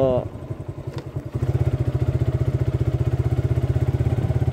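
A motorcycle engine putters close by on a village road in Nagarpur, Tangail, Bangladesh, with a steady rhythmic throb, preceded by a brief voice at the start.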